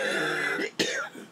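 A man with a sinus infection coughs and clears his throat indoors, a rough throat-clearing rasp followed by one sharp, close cough and a brief trailing hack.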